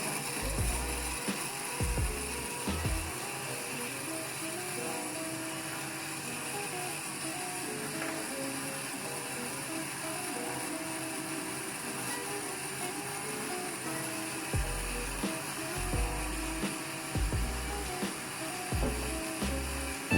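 An electric blender grinds pesto on slow speed, producing a rattling, ratchet-like mechanical whir that runs steadily, with intermittent low thumps as the contents knock around.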